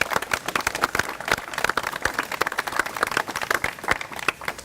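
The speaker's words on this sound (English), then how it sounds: "Give them all a round of applause." Applause from an audience at an outdoor news conference on the Farmington River, a steady patter of many hands clapping at close to moderate distance, with no voices over it.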